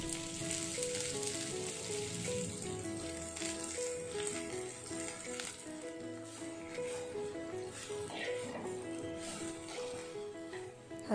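Chopped vegetables fry with mustard seeds and cumin in a pan, giving a continuous close sizzle with light stirring rattles, while background music plays softly underneath.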